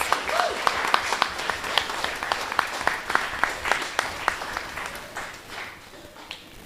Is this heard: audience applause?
yes